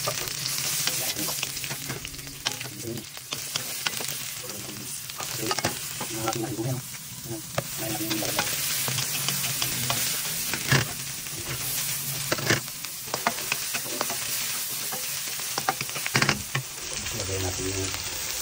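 Onions sautéing in a pan as caldereta is cooked, giving a steady, close sizzle with frequent stirring scrapes throughout and brief quiet talk now and then.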